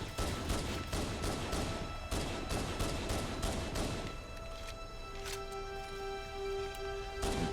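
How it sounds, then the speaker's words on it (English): Rapid bursts of pistol fire from the Halo: The Master Chief Collection video game crack out in quick, regular volleys through the first half, then thin out among scattered shots and a steady synthetic hum, loud and up close. "Here's this pistol that I love so much."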